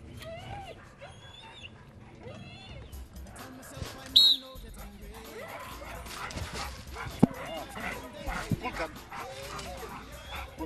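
Trained dog barking and yipping in sharp bursts during attack training at a canine training school, close and loud, with whimpers in between and people talking throughout.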